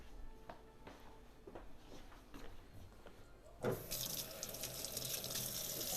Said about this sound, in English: I'm going to wash my hands quick here.